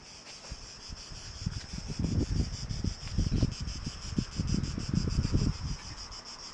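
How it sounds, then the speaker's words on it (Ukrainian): A continuous, high-pitched buzzing drone of cicadas fills the air, with gusts of wind rumbling low beneath it. "І цикади."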